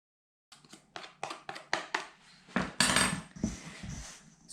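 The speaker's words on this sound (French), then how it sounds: "Je bats en omelette et ensuite je ramène la farine dessus pour mélanger." Eggs beaten with a fork in a bowl to make fresh pasta dough: quick, rhythmic clinking strokes against the bowl, close and fairly soft, followed by a brief scraping burst, with no talking.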